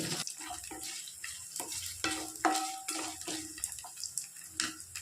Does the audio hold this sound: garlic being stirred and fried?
yes